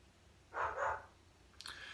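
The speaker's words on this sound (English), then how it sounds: "Can you hear Mr. Bentley barking downstairs?" A dog called Mr. Bentley barks downstairs, two short muffled barks in quick succession at a distance, followed by a brief higher yelp or squeak in an otherwise quiet room.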